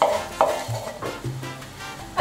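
Garlic sautés in a pan while being stirred for a squid dish, a close sizzle broken by several sharp scrapes and knocks of the utensil against the pan.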